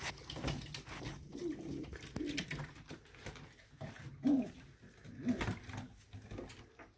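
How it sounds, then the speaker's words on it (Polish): Pigeons take turns at two bathing tubs on a sunny day, with soft low coos, fluttering and splashing scuffles near and far amid rustling background noise. "Gołębie na zmianę wchodzą."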